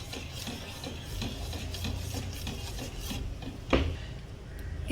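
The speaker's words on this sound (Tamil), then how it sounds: "நல்லா மிக்ஸ் பண்ணிக்கோங்க." Chinese rojak salad being tossed and mixed, giving a steady close-up rubbing and scraping texture with a brief louder clatter near the end, no voices.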